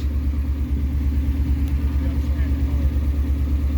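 A 1959 Ford Fairlane 500 on a test drive, its mid-pitched engine rumbling steadily under the cabin with a low, even drone, and people talk over it.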